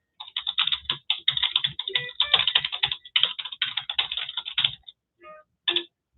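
Rapid, steady keystrokes on a computer keyboard rattle close and clear, fast bursts of typing broken by a few short pauses, with a couple of isolated clacks near the end and no voices.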